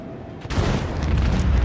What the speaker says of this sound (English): let's blow up this dude